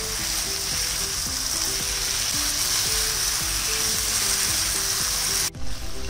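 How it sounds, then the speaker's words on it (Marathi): Chicken frying with masala in a pan for dhaba-style bhuna chicken, a loud continuous close sizzle with a rhythmic stirring scrape repeating about every half second, ending abruptly. "पूर्ण चिकनला मसाला अगदी चांगला कोट होईपर्यंत चांगलं परतायचं"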